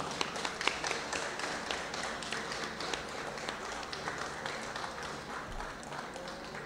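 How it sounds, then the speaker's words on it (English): Fairly faint, scattered applause at a stamp launch honoring golfer Yuka Saso and her team. Distinct individual claps sound over a thin, roomy background, holding steady rather than building. "Let's give them all a round of applause."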